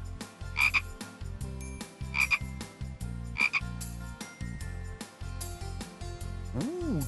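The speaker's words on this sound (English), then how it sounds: "That's a frog!" A frog croaks in three evenly spaced short calls, each sharp and clear, over a steady upbeat music bed that ends with a sliding tone.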